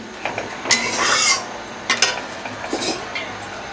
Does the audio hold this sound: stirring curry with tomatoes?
yes